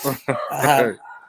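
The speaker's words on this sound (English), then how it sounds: "They're deciding to bark." Dogs barking indoors, set off by a ringing doorbell, a few loud close barks and yips packed into a second or so.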